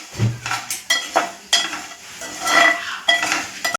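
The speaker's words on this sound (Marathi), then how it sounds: "हे पण चांगलं मिक्स करून घ्यायचंय." Salt being stirred into peanut chutney in a langdi pot: scraping and clinking of a spoon against the vessel in quick irregular strokes, close and fairly loud, with no talking.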